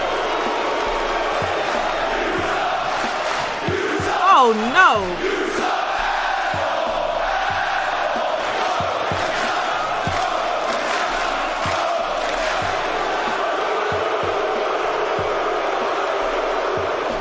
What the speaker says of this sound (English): Reigns was booed for 8 minutes straight